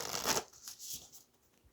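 Tarot-style tea leaf cards being shuffled close up, a brief papery riffle followed by softer sliding and rustling.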